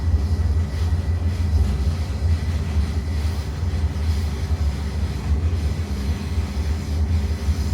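A Koleje Śląskie passenger train running at about 50 km/h on a curve of fresh track toward Pyrzowice airport, heard from inside as a steady, loud, low rumble with rhythmic wheel clatter.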